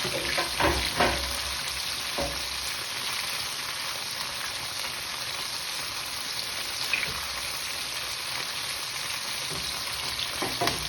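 Beef pieces for crispy chilli beef fry in hot oil, a dense continuous sizzle with occasional crackles and a few spatula clatters near the start, close and steady with no talk.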